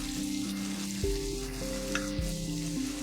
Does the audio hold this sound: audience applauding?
no